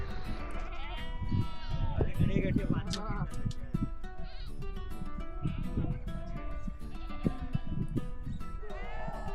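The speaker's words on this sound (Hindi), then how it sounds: "ये सब भेड़िया है" A flock of sheep at a Himalayan village homestay on a mountain trek bleats repeatedly, several animals calling close by and overlapping, with people talking underneath.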